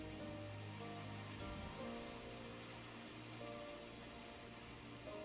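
Steady, soft rain falls continuously in Final Fantasy XIV, a gentle even hiss of drops on surfaces with faint game tones beneath and no talk.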